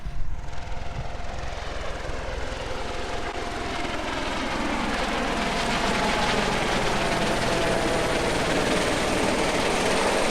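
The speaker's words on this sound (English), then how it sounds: "and oh, chopper." Helicopter flying overhead in Perth, a steady, loud broadband rotor and engine roar that builds slightly and holds throughout, with no talking.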